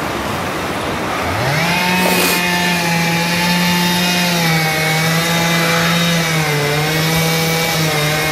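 A chainsaw revs up and runs steadily near a riverside campsite in winter, its high-pitched buzzing engine close and loud throughout, shifting pitch slightly as it works.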